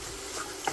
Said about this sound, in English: Mix that in there.